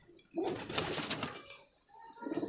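Pigeons of a Desi flying (parwazi) breed coo in a close, soft rumbling phrase that swells, pauses briefly and resumes, with no talking over it.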